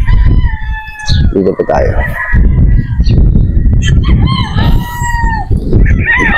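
A young Boston Roundhead brood stag rooster crows loudly and close several times, with clucking from other fowl and someone talking over it.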